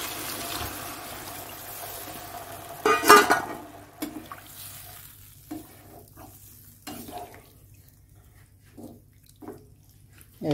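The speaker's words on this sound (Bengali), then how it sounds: "এবার জল দিয়ে দেবো" Water poured into a Bengali bhola fish curry in a hot pan, a brief loud splash and sizzle followed by quieter bubbling, stirring and scattered drips.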